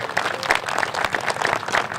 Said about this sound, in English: Mr. Willie Young. Give him a round of applause.